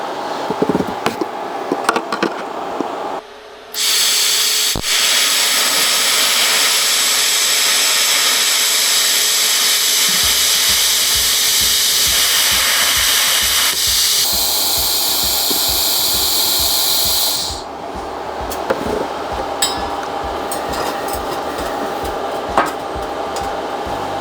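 TIG welding tacks on a stainless steel exhaust at about 105 amps, a loud, steady, close electric arc hiss that holds for several seconds at a time, with a buzzing hum and a few short clicks between welds and no talking.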